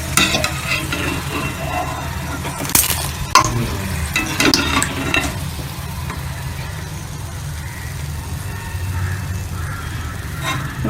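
Pooris deep-frying in hot oil over a full flame for poori masala, giving a steady bubbling sizzle with occasional louder crackles and spatters, close up and without talk.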